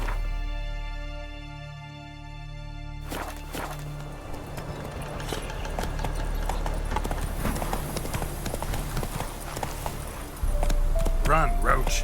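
Roach the horse from The Witcher 3 galloping in steady, rapid hoofbeats that grow louder and busier partway through, with game music and ambient sound around them and no talking.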